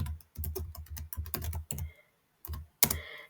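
Typing on a computer keyboard while entering SQL code: a quick, close run of crisp key clicks in uneven bursts, a short pause, then a few more sharp taps, with no talking.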